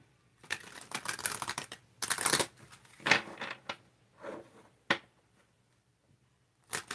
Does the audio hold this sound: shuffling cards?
yes